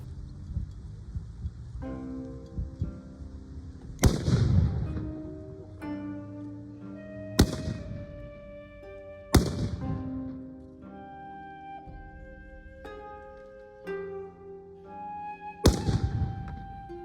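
Samurai fire Japanese matchlock guns at Matsumoto Castle, four sharp loud reports spaced a few seconds apart, each trailing off into a ringing, musical-toned background.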